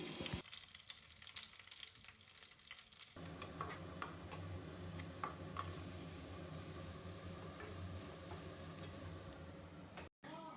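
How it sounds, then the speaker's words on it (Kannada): Oil tempering with mustard seeds, curry leaves, garlic and onion frying in a second pan, a steady close sizzle with crackling pops throughout and faint stirring, running alone until a brief cut near the end. "ಒಗ್ಗರಣೆಗೆ ಎಣ್ಣೆ ಸಾಸಿವೆ ಕರ್ಬೇವಿನ ಸೊಪ್ಪು ಬೆಳ್ಳುಳ್ಳಿ ಈರುಳ್ಳಿ ಹಾಕ್ಕೊಂಡು ಫ್ರೈ ಮಾಡ್ಕೊಳ್ತಾ ಇದ್ದೀನಿ"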